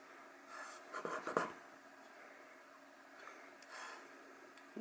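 A knife scrapes and grinds through a Lush golden egg bath bomb, which cuts like a sugar loaf: quiet scratchy rasps with a louder crunchy burst near the start and a fainter one later, no talk.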